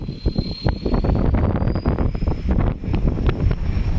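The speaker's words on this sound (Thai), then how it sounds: "โอ้ลมแรงมาก" Strong wind gusts batter the microphone outdoors at an elephant bathing spot before an expected rainstorm, producing a loud, continuous low rumble with irregular buffeting bursts throughout.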